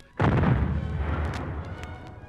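Explosion sound effect in a War of the Worlds radio drama, a sudden loud booming blast with a deep rumbling tail that slowly fades, faint crackles scattered over the decay, no voices.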